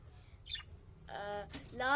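Lovebird chicks give faint, high chirps and squeaks close by in a quiet room, while a person talks softly over them.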